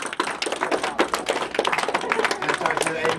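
Crowd clapping at a rap battle: a dense, steady patter of hands with voices talking and shouting over it the whole time.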